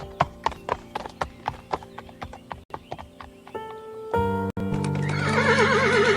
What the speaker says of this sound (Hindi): मोहन घोड़े को चलाने लगता है